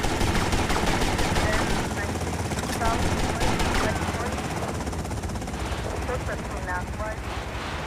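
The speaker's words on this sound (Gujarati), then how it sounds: "હેલિકોપ્ટર બી આવી ગયું." Helicopter rotor drone mixed with rapid machine-gun bursts during a harbor jetty shootout in the game GTA Vice City, loud and continuous throughout, with in-game voices and a person talking over the action.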